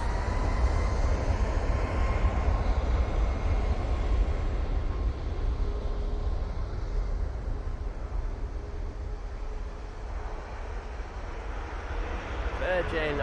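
A Virgin airliner takes off at Manchester Airport, its jet engines a broad, steady distant roar that slowly fades, while someone talks over it.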